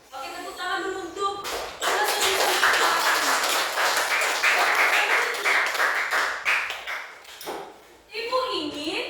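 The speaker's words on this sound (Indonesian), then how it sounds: "Oke, tepuk tangan dulu untuk" Students in an Indonesian classroom clap together after their teacher praises their worksheets, a dense burst of hand claps lasting several seconds, close and fairly loud, with some voices mixed in before and after.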